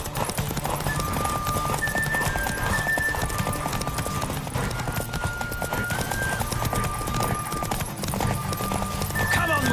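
Hooves of a galloping horse drum in a steady clip-clop through a horse race in The Witcher 3, with an occasional whinny and a game music drone running underneath, loud and continuous.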